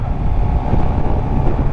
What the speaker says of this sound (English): still incredibly windy